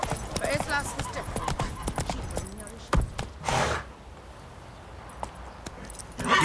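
Horse hooves clip-clop on hard ground in the video game The Witcher 3: Wild Hunt, an uneven run of close hoof knocks mixed with tack jingling, while someone talks over part of it.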